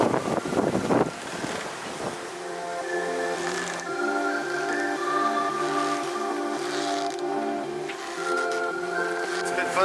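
A sailboat moving at speed across open water in a steady 15-knot beam wind, with continuous wind rush and water noise, a low steady drone beneath and a gust of microphone buffeting at the start.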